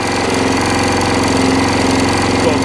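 The petrol engine of a Qualcast 35s cylinder lawn mower runs at full revs on half choke, a loud, close, steady buzzing drone with no pauses.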